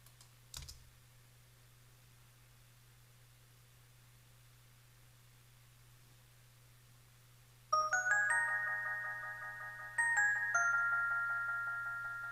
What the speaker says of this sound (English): And then I put a delay on the bells right here.